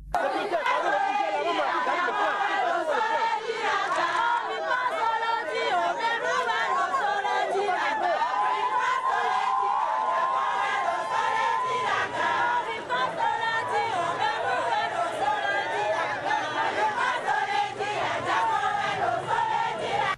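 A lively crowd in Lokossa, women and motorcycle-taxi drivers among them, welcomes a politician with dense chatter, shouts and excited cries, loud and continuous throughout with overlapping voices.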